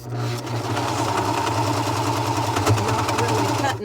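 A serger sewing machine runs steadily and loudly close by while hemming pants, its motor hum and rapid stitching chatter continuous throughout, with no speech over it.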